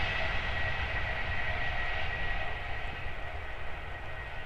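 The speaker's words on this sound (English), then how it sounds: "I managed to record the rest of the train passing without dipping the camera" A train rumbles past at close range, a steady broad roar with low rumble and a sustained high whine that holds level throughout before easing slightly toward the end.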